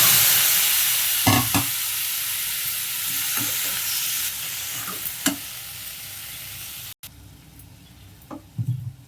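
Tomato pieces fry in hot oil for a Telugu tomato pachadi, giving a steady close sizzle with occasional stirring clinks across the span, briefly dropping out near the end before resuming.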